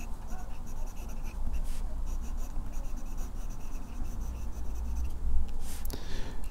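A Namisu Nova aluminium fountain pen with a fine nib writes with Noodler's Dragon's Napalm ink, making a continuous close-up scratchy rubbing on paper with a few louder strokes and no talking.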